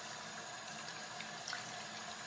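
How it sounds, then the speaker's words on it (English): Warm tap water runs at a low, steady rush into a sink over someone's hands, faint and continuous with no voices. "First, I'm gonna run my water, just a little bit. I'd like it to be warm."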